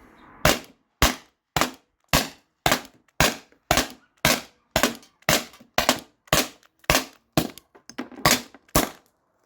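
A Beeman BP50 and a Salt Supply S2 airgun fired alternately at cans outdoors, about sixteen sharp, loud snapping shots in a steady, evenly spaced rhythm with silence between.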